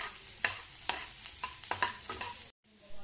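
Garlic sautés in hot oil in a pan with a soft sizzle while a utensil scrapes and stirs in irregular strokes, close and fairly quiet, briefly cutting out near the end.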